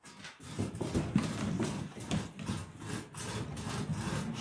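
Wood being cut with a hand saw, heard up close as a steady run of rasping push-and-pull strokes, roughly two per second, continuing throughout with no voices.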